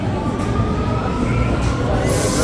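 A Rome metro train at the Musei Vaticani stop fills the space with a loud, continuous rumble and rushing noise.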